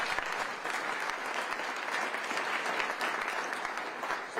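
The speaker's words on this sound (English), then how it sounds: "Give them both a round of applause" A political event audience in Greenville County applauds steadily for about four seconds, a dense, even wash of many hands clapping with no voices over it.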